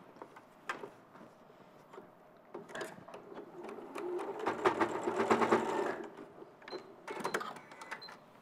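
A sewing machine basting fabric ears onto the sides of a toy dragon head, its needle chattering in short rhythmic runs that swell into a louder steady stitching burst mid-clip before tapering to intermittent clicks, close and with no talk.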